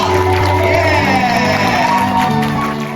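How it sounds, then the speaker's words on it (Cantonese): Guests at a wedding cheer and shout together for the groom in a loud, continuous crowd roar, with whoops rising over the noise. "俾啲掌聲鼓勵下哥哥好嗎？"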